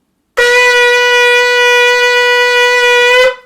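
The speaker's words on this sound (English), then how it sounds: "So a tekiah sounds like this." A single long, steady horn blast with a bright, buzzing tone, held for about three seconds at strong volume before cutting off.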